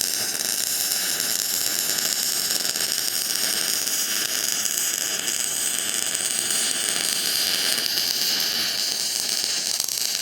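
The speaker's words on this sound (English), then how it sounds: "So we're gonna go ahead and start welding this thing out." Steady, loud crackling hiss of welding a steel plate onto a frame, continuous and close throughout with no talking.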